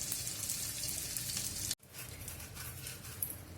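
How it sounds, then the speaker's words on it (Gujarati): Edible gum (gond) frying in ghee, a steady bright sizzle that cuts out briefly and then resumes, heard alone without speech. "આપણે થોડો થોડો ગુંદર નાખતા જશું અને તળતા જશું"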